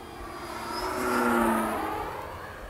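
A Fun Scale P-47 Thunderbolt RC model plane on a 4S battery makes a flying pass, its electric whir rising to a peak and then fading as it goes by at moderate distance.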